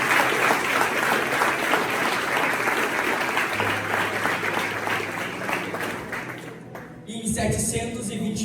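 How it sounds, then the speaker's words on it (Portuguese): A church congregation breaks into loud, sustained applause during a youth mission service, dense clapping filling most of the span before thinning near the end as a voice and other sounds take over. "Então dá uma poderosa salva de palmas."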